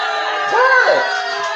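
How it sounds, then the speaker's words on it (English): An audience boos a speaker in a short, loud, sustained wave of jeering voices, swelling briefly in the middle. "He's getting booed."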